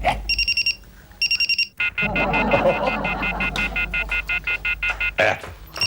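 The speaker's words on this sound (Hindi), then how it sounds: "इसका अलार्म बंद करो तो उसका अलार्म शुरू होता है" Several alarm clocks ring in rapid pulsing beeps, first in short bursts, then one after another in a dense, steady electronic chirping that fills the room.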